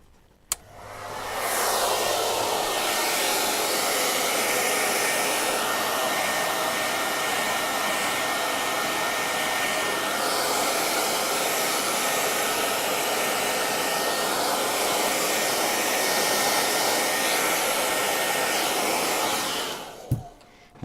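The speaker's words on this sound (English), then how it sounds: "You just use your hairdryer." A hairdryer runs steadily for about twenty seconds, a loud, even broadband whoosh switched on at the start and off at the end, used to warm lead came for a stained-glass sun catcher.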